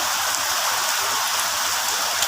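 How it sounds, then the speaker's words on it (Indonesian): Steady rain falls outside during home cooking, a dense, even hiss of drops on surfaces that holds unbroken throughout, with no voices. "Agak berisik dikit ya karena di luar lagi hujan nih teman-teman."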